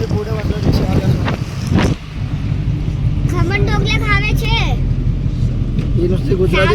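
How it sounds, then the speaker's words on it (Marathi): An auto-rickshaw carries five passengers away from a station, its engine a steady low rumble running under near, constant talk from the riders. "आम्ही लोक आता स्टेशनवरून रिक्षाने चाललोय"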